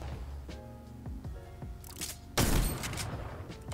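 Video game gunfire landing a headshot: a string of sharp shots followed by a louder, heavier burst, with punchy cracks close and alone, no talking.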